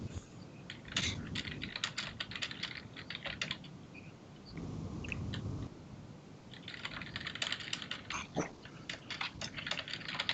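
Rapid clicking of typing on a computer keyboard comes in bursts, fairly close, with a brief pause midway and low background rumble beneath.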